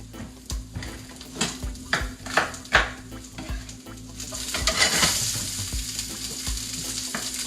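Pak choy stir-frying in a hot pan, with a bright sizzle and repeated rhythmic scraping tosses of a spatula, swelling louder midway as the greens hit the oil; a low steady hum runs underneath.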